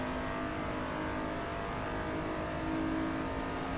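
A Nissan 350Z in Forza Horizon 3 holds full throttle on a grip-tuned track build, its engine droning loud and steady with a sustained high-rev tone and no break for the whole stretch.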